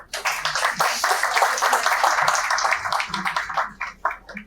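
Audience applause welcoming a guest, an associate professor, at an expert session at an engineering college, steady fairly close clapping for about four seconds that thins near the end.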